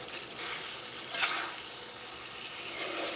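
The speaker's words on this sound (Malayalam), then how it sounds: "ഈ കറി നമുക്കൊന്ന് ഇളക്കിയിട്ട് കൊടുക്കാം." Chicken tomato masala curry being stirred in a hot pan, a steady sizzling and frying hiss with a brief louder scrape of the spoon partway through, close and continuous with no voices.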